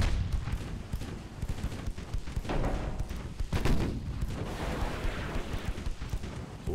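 Naval artillery firing in the Ultimate Admiral Dreadnoughts game: rumbling shell blasts and booms overlapping in a dense, continuous barrage, with several sharper reports standing out against the low roar.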